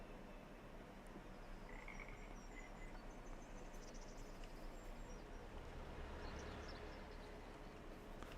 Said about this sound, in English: And you can hear the frogs.